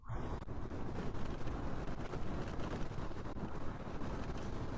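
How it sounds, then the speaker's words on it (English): Wind blows outdoors in cold Northern California, a steady, loud, buffeting rush that sweeps over the microphone without a break, with no voices. "Continuing to press against the wind."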